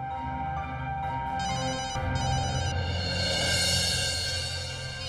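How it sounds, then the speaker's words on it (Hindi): A telephone bell rings continuously, loud and close, with a steady electronic warble and no talking. "किसका फोन है?"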